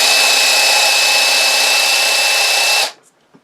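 A drill spins the mechanism of a Singer 66 sewing machine under overhaul, whining loudly and steadily at high speed for about three seconds, then abruptly winds down to near silence.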